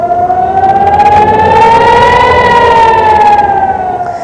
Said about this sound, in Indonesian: Suara sirine bersautan ketika serangan balasan Hizbullah menembus wilayah pendudukan Israel